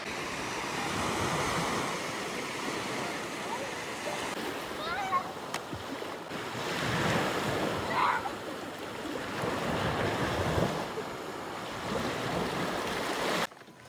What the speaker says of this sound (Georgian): ზღვა, მოვედით ზღვაზე.